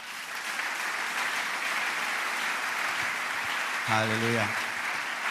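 A church congregation at a Sunday worship service applauds: loud, dense clapping fills the whole stretch, with a single voice shouting out near the end.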